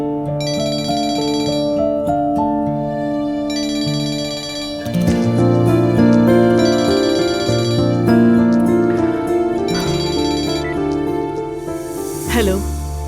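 A phone ringtone chimes in repeated bright bursts about every two seconds, layered over a loud, busy musical score.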